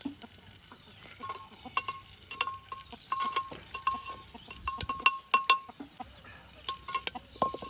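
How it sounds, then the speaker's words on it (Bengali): Onions and green chillies sizzle in oil in a handi pot over an outdoor cooking fire in a forest, with scraping stirs and light metallic clinks of a spoon against the pot recurring throughout; no one speaks. "পেঁয়াজ আর লঙ্কাটা ভালো করে নেড়ে ছেড়ে দিলে"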